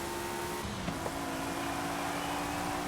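A steady, droning engine hum of an upgraded Jaguar XJ220 S TWR in Forza Horizon 5 runs throughout at a constant pitch, fairly faint and unchanging, like a car cruising at speed.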